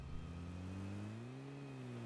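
A car engine from the PUBG Mobile video game hums steadily as the vehicle drives, a low droning tone that slowly rises in pitch, faint and alone.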